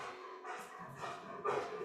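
A pet dog yips and whimpers in a few short, high-pitched bursts, fairly close and moderately loud, with a louder yelp near the end.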